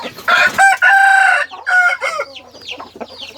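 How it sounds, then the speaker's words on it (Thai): A Thai fighting rooster, a game cock raised from a chick, crows loudly and close by in one long, strained call, followed by softer broken clucks and chatter. "ตัวนี้ไก่เชิงนะครับ ไก่เชิงตัวนี้ ซื้อมาครับ"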